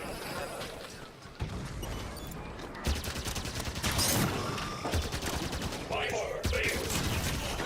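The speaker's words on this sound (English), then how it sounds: "Scatter shot, or whatever, bullets sort of accelerate now." Rapid bursts of scattershot weapon fire in Halo 5: Guardians gameplay, dense crackling volleys and impacts layered with game effects, loud and continuous throughout.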